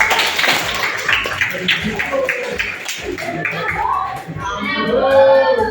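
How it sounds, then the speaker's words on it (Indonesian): Children in a class session clap hands in a series of quick, fairly close claps and taps mixed with young voices talking, giving way to a more sustained burst of clapping and chatter at the end. "Nah, tepuk tangan dulu."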